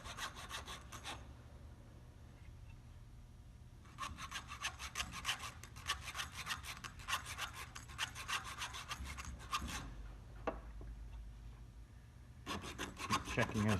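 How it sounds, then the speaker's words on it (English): Close, repeated back-and-forth sawing strokes into cable while fitting a Hawke 453 universal cable gland, in several bursts, separated by short pauses and a faint knock. "Keep sawing and twisting."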